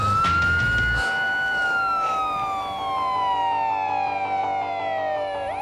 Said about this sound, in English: when you hear that ambulance and you need it, oh, it's the best sound in this world